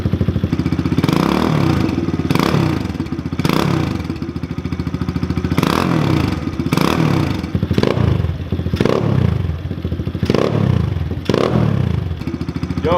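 A Kawasaki KLX110 pit bike engine, heard about five feet away, is revved repeatedly in a steady rhythm. The loud, close throttle blips rise and fall over a constant idle.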